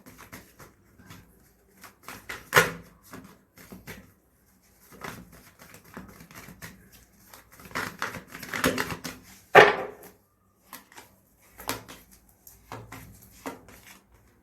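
Tarot cards being shuffled by hand, giving scattered dry riffling and slapping bursts in irregular clusters, fairly close and without speech.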